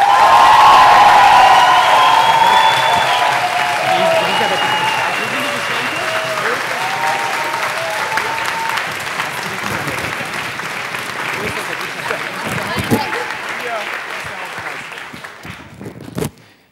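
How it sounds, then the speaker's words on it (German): Dense applause from a science slam audience for Amitabh, with a few cheers and whoops, loud at first and slowly thinning over about sixteen seconds as voices rise through the fading clapping. "Und einen Applaus für Amitabh, bitte."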